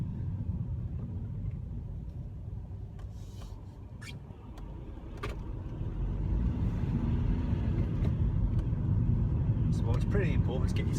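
A Kia Rio Eco with a six-speed gearbox drives along, its engine a steady low rumble that grows a little louder partway through, with a few faint clicks and a voice talking over it.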